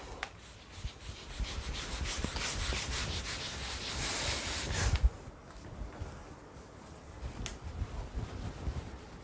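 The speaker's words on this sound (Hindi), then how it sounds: "now I will rub this out" A duster rubs writing off a classroom board during a chemistry lesson, giving a soft, continuous scrubbing swish that lasts several seconds before stopping, followed by a few faint taps and shuffles.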